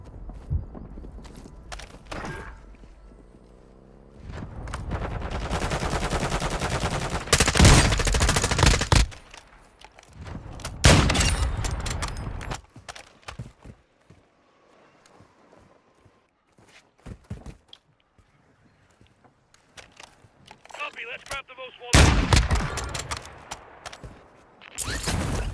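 Gunfire in a multiplayer video game shootout with an MCPR-300 rifle loadout, bursts of rapid loud shots in several clusters separated by quieter stretches with scattered footsteps and clatter.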